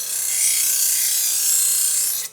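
An electric knife sharpener grinding a blade pulled through its slot, giving a steady, harsh high-pitched rasping whine that holds for about two seconds before cutting off abruptly.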